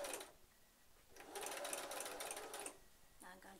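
A sewing machine stitches along a petticoat hem that has wire inside it, running in a steady buzzing burst after a short start, then stopping, close and fairly quiet.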